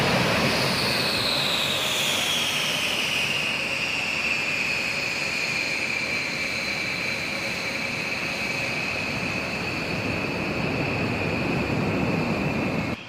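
Continuous roar of B-1B Lancer bomber jet engines, loud and steady throughout with a slowly falling high whine over broadband rumble, no voices.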